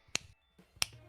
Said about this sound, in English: This is actually one-hand clapping.